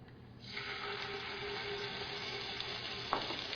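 Whole garam masala spices and ginger garlic paste sautéing in hot oil for vegetable biryani, a steady broadband sizzle that swells just after the start and holds evenly, with a brief utensil clink near the end.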